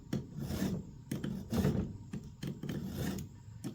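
Hand file rasping across the teeth of an 18-volt battery chainsaw chain, sharpened in a driveway by a garage door; close strokes come in uneven bursts of about six passes with short pauses between.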